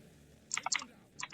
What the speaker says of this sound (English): Sorry if you can hear the typing.